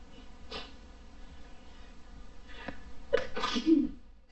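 Three separate sneezes from one person indoors, spaced out over a few seconds, the last two close together and louder, with a quiet room hum beneath.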